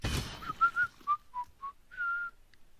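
Character whistling while mining in Edengrad, a short tune of about seven clear whistled notes, the last one held longer, close and alone after a brief opening noise.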